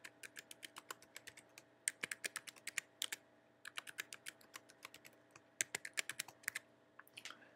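Password being typed on a computer keyboard: quick, crisp keystrokes in bursts of several taps separated by short pauses, close and fairly quiet with no voices.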